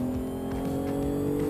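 A 530 hp Subaru Impreza WRX's four-cylinder engine hums steadily at a constant pitch, a loud continuous drone heard from inside the car with no speech.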